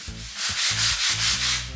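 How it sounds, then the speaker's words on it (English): Hand sanding a bamboo worktop by hand with sandpaper gives close, rhythmic rubbing strokes, about five even back-and-forth passes over a faint low hum. "Just keep the pressure even as I'm sanding."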